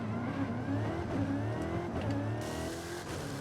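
Revving car engine at the start of a race in Forza Horizon 5, a steady loud roar with rising pitch sweeps and gear-like shifts, continuous throughout with no voices.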